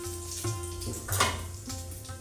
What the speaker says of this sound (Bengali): এই যে ডালিয়া আমি ধুয়ে রেখেছিলাম, এটা এইবারে আমি দিয়ে দেবো তেলের মধ্যে।